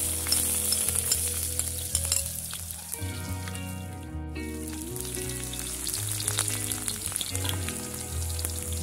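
Green chili, garlic, shallot and ginger hit hot oil in a wok, a loud steady sizzle and crackle that runs throughout, with scraping stirs and a brief dip partway through.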